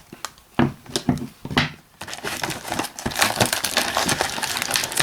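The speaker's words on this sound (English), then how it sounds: "I've got my scissors here, handy scissors, so I can just cut it and get him out." Crinkling, crunching plastic toy packaging being snipped with scissors and handled up close, with several sharp cuts early on followed by dense continuous rustling.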